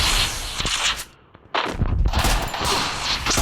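Sniper gunfire in the Free Fire mobile battle game: loud, dense bursts of shots and blasts fill the clip almost continuously, with a brief quieter dip in the middle.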